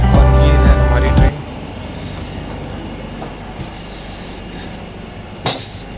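A train at Paris Gare de Lyon station, a loud rumbling start that cuts off into a quieter platform hum with occasional faint clanks and a brief hiss.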